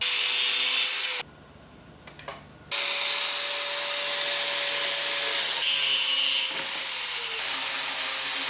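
A car's throttle pedal is cut off with a power tool, giving a loud, continuous grinding or sawing noise that stops briefly, then resumes and runs steadily to the end.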